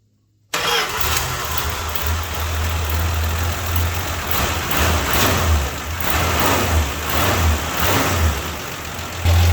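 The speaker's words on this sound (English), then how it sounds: "As soon as I hit the starter, the sucker fired right up." A 1974 Dodge Dart Sport, sitting unused for 22 years, cranks and fires after half a second of silence, then runs loudly and steadily with a deep rumble and some revving, close by, with no voices.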